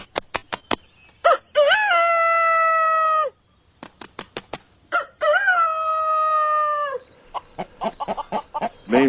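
A rooster crows twice, loud and near, each long harmonic call set among sharp rapid clucks and wing flaps, with more clucking trailing off at the end.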